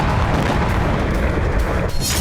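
A FAB-500 bomb explodes in Kherson during the war in Ukraine, a dense, loud, sustained roar of blast rumble that fills the whole stretch without pause.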